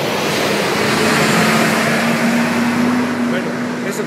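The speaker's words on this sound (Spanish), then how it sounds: "es el camión de la basura que nos sometió un poquito al ruido" A garbage truck passes on a street, a loud, broad engine rumble with a steady low hum that fills the whole stretch close by.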